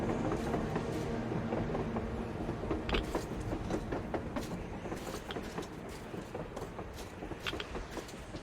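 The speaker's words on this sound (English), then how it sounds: "A train! A damn train on the surface!" A train rolls past in the post-apocalyptic shooter Metro: Exodus, a steady loud rumble with rhythmic clickety-clack of wheels over rail joints and occasional metallic clanks.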